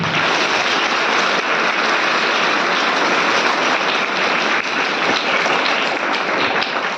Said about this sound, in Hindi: तो ताली ताली बजाओ पहले